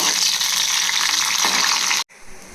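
Onions, garlic and dried red chillies fry in a pan for beans poriyal, giving a loud, even hiss that cuts off abruptly near the end and leaves only a quieter sizzle.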